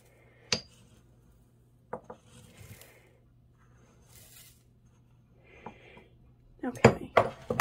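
Salt moved between mortars and pestles: scattered knocks and scrapes of stone and grains, a few sharp clinks, then a busier rattle of clatter at the end, close by over a faint hum.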